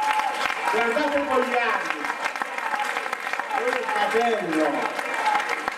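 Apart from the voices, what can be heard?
audience applause at an assembly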